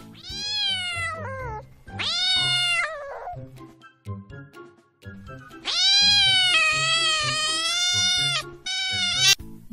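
A cat meows loudly several times, with long drawn-out, wavering cries and short pauses between them, close and clear.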